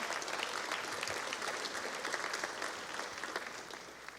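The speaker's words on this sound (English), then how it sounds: "You absolutely deserve to give yourself a round of applause" A legislative chamber audience applauds during a governor's address, steady dense clapping filling the room at moderate distance and holding evenly throughout, with no voices above it.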